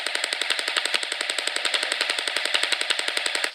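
A CYMA AK47 airsoft rifle with its stock folded fires a sustained full-auto burst, a fast, even, rattling stream of sharp clicks and snaps, loud and close, with no talking.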